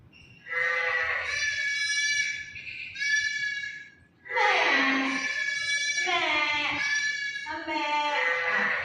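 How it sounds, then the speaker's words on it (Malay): A goat bleats repeatedly in loud, wavering cries, several calls running close together with short gaps between them. "Bunyi kambing pandai."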